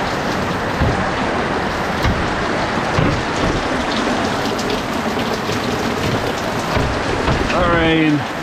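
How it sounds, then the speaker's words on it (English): Heavy rain pours down steadily on an Irish homestead, a dense constant hiss of drops drumming on surfaces, with a brief rising tonal sweep near the end. "The rain pouring down on all the stuff we have in storage."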